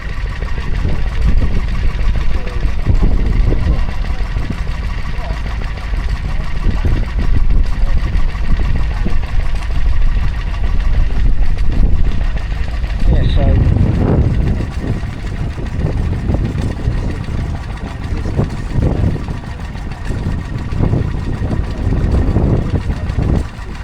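A Petter stationary engine idles and chugs continuously at a spring fair in Laughton, Sussex, loud and close, with a constant low rumble throughout.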